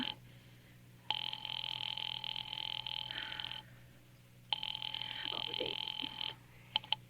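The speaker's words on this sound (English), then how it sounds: "Ringing the police department." A telephone ringing as a sound effect in a 1940s radio drama, two long electric bell bursts of about two and a half and two seconds separated by a pause, then a short third burst, fairly quiet over a low hum.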